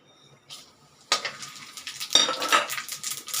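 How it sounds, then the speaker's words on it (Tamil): Whole spices, bay leaves, peppercorns, fennel, cumin, cinnamon and cloves, drop into hot oil and burst into a bright crackling sizzle, with a metal spoon clinking against the pan as they stir. "நான் இப்போ மீதி இருக்கிற எண்ணெயில் நம்ம தாளிப்போம்"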